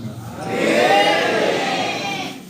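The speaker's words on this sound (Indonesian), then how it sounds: "Kalau aminnya keras macam ini berarti benar-benar masyarakat menginginkan." A large crowd at a public gathering about palm oil plantation plasma rights calls out together in one loud, sustained swell that rises and fades over a couple of seconds.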